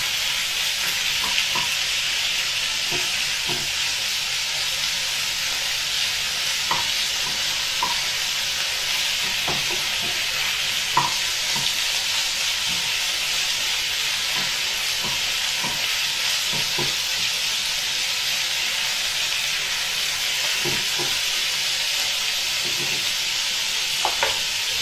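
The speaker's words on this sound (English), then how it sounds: "So while your chicken's starting to cook there" Chicken pieces frying in rapeseed oil for a Thai red curry, a steady broad sizzle and hiss throughout with occasional small pops and stirring clinks, no talking.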